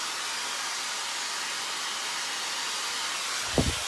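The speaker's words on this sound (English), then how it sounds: "Using a Dyson hairdryer, I'm going to use it without my nozzle initially." A Dyson hair dryer without its nozzle blows with a steady, even rushing whoosh throughout, followed by a soft low bump near the end.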